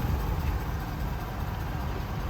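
A 2020 Ford F-350 Platinum FX4 diesel pickup idles with a steady, close, low rumble and no speech over it.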